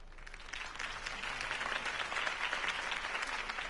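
Video game crowd applauds steadily, a dense wash of clapping that swells after a moment and holds for several seconds.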